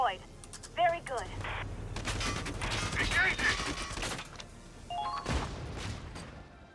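Gunfire rattles in the tactical war game Valkyria Chronicles 4, with bursts of sharp shots and mechanical clatter clustered in the middle. Game voices and electronic tones are heard around the shooting.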